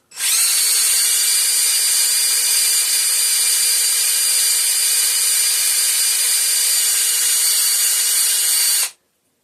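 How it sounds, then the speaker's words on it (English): An impact wrench spins a bolt coated in penetrating fluid on a 5hp Briggs and Stratton engine with gear reduction, giving one loud, steady high-pitched whir of about eight seconds that stops abruptly. "I'm going to give it a spin with the impact"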